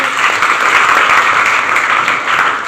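Loud, sustained applause from a crowd of college students in a classroom after a quiz answer about Bhagat Singh's birth date; many hands clap in a dense, even roar with no break.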